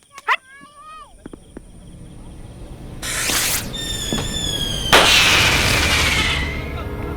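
Shrill whistling squeals and sharp crackling bursts of firecrackers going off, loud and close, with voices in the background.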